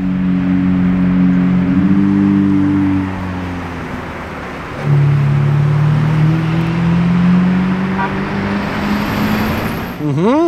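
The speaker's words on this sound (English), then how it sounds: "That's the sound of an hybrid V6." A Ferrari SF90 XX hybrid V6 drives past with engine tones rising and falling, loud and close, a steady road roar dipping briefly mid-clip before the engine note climbs again.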